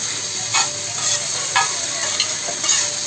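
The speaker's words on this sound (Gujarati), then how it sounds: "ફરીથી એને આ રીતે ધીરે ધીરે હલાવતું રહેવાનો" Ground coriander-cumin spice being stirred in a hot pan for tawa pulao, a steady sizzle with a few soft scraping strokes of the spoon, close up and with no voices.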